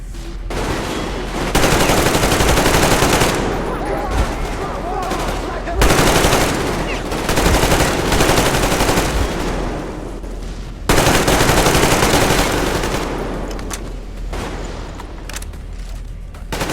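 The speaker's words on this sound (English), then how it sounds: "They got the machine gun!" Machine gun fire in the video game Metro Exodus arrives in long, loud, sustained bursts with short breaks between them, dense and close, with battle noise continuing throughout.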